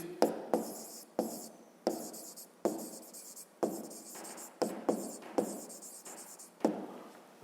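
Pen writing out a math solution on paper, a series of close, sharp scratchy strokes in an uneven rhythm, roughly ten distinct strokes with short pauses between, faint and alone.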